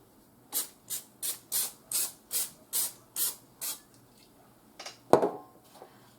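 Cooking spray hisses onto layered potato slices on a cookie sheet for a creamy chicken casserole: about eight short, evenly spaced bursts, followed by a louder clunk and a few softer knocks near the end.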